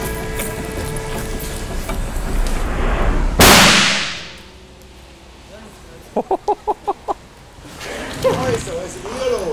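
A firecracker bursts the tyre of an old Golf at a scrapyard: one sharp, very loud bang, then a long fading hiss as the tyre empties. A quick run of clicks and nearby voices follow.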